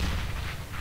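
Grenade explosion in the Counter-Strike: Global Offensive video game: a brief, loud, dense booming blast with heavy low-end rumble filling the whole moment, no talking.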